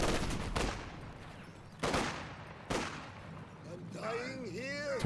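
Bursts of light machine gun fire and heavy gunfire crash through a Company of Heroes 2 2v2 battle, three sharp volleys standing out loudly over constant battlefield noise, with someone talking over the action.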